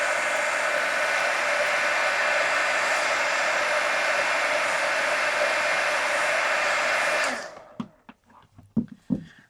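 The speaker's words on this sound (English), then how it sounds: "let me hit that with the heat gun now" A heat gun blows a steady, loud hot-air roar over a mixed media collage art card for about seven seconds, then cuts off, leaving a few light knocks and handling sounds.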